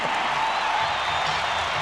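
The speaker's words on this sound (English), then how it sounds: "Listen to this crowd." A 1995 Chicago Bulls basketball arena crowd roaring after a go-ahead free throw, a steady wash of cheering and applause, loud and sustained with no break.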